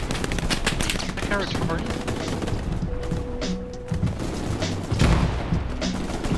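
Rapid MG42 machine-gun fire in the WWII video game Hell Let Loose rattles in dense, continuous bursts, close and loud, with scattered distant shots as a player talks briefly.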